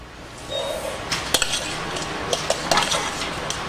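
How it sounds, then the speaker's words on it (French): Pastry cream being folded into hot cooked caramelized apples in a pan gives soft stirring scrapes with several sharp clicks of utensil against pan over a low background hiss. "A little pastry cream is stirred into the cooked apples."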